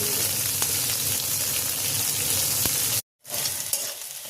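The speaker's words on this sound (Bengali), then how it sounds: "আর পেঁয়াজটা দিয়ে দেবো।" Onion frying with spices in a pan for a Bengali bean bhorta gives a loud, continuous close sizzle with faint stirring, cutting out briefly near the end before resuming.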